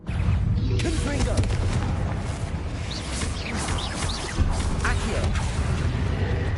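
Confringo fire-spell blasts in the Hogwarts Legacy video game, a string of sharp booming bursts over steady rumbling game ambience.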